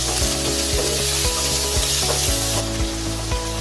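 Chopped tomatoes sizzle steadily in hot oil in a pan for a vegetable handi, with regular scraping strikes of a spoon stirring every half second or so, close and loud.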